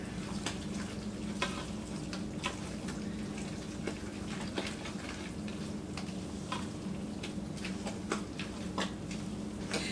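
Spoon scraping and stirring a Tex-Mex cowboy casserole mixture in a pan, steady scratchy strokes with repeated sharp clicks over a faint continuous sizzle, close and moderately loud with no talking.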